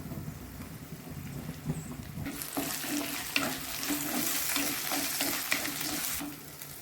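Small onions and tomato paste are added to a pan for chicken gravy, the sizzle jumping louder and brighter on contact and holding as a close, steady fry with stirring scrapes.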